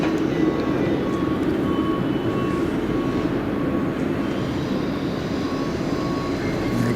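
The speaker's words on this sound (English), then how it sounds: "Emirates on approach now for landing" Emirates airliner on approach for landing at Manchester Airport, a steady, moderately loud broadband engine roar holding level throughout without clear rise or fall.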